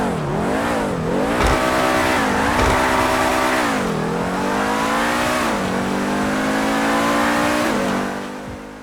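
Ubermacht SC1 supercar in GTA 5 revving hard, engine pitch climbing and dropping repeatedly through quick gear shifts, loud and close throughout, fading slightly at the end.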